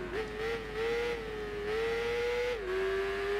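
A Yamaha motorbike engine in the Tourist Trophy racing game drones steadily, its pitch rising and shifting through gear changes, close and fairly loud with no talk.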